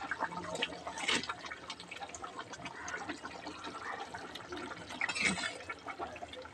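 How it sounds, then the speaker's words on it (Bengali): Water poured and stirred in a cooking pot for a rohu fish dish, a wet, splashy trickle with scraping stirs and clinks, fairly close, with a couple of louder splashy bursts. "জল দিয়ে একটু নাড়াচাড়া করে ঢাকা দিয়ে রাখতে হবে"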